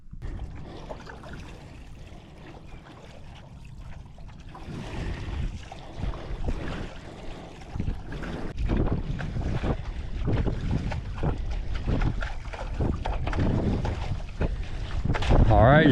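A paddle boat out on the sea off Baja in hot weather, with steady wind buffeting the microphone and water washing and splashing around the hull, growing louder and choppier over time.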